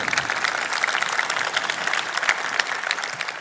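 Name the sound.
graduation audience applause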